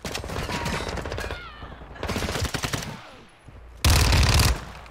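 Fennec submachine gun bursts in Call of Duty: Modern Warfare II, loud rapid-fire volleys in three separate runs, the final burst closest and heaviest.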